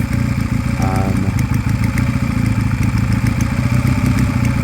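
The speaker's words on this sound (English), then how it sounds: "once warm, the bike sounds and runs much better" A warmed-up Sinnis Cruisestar 125cc motorcycle engine runs at a steady idle nearby, a loud, even putter with light mechanical clatter and a few sharp ticks over it.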